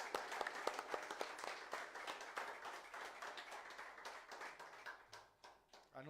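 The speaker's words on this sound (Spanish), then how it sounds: "Yo creo que él se merece un aplauso de todos nosotros." Church congregation at a special service in Sucre, Bolivia clapping, sharp individual claps standing out over a thinner spread of applause that gradually fades and becomes sparse toward the end, with faint voices beneath.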